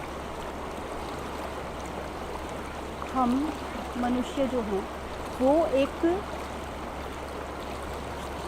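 A flowing water stream makes a steady, soft rushing wash throughout, with a calm voice speaking over it in the middle.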